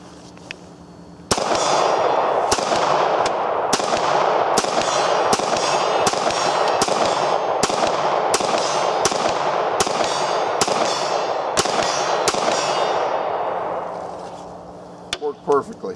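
A Beretta 96 pistol in 9mm fires about a dozen sharp, loud shots at a steady pace outdoors, each crack ringing over a constant roar of background noise that fades out near the end.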